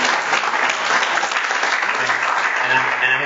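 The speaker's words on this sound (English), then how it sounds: "Give them a hand clap" A church congregation applauds the pastor and his wife with steady, loud, sustained hand clapping that fills the room, with a faint voice emerging near the end.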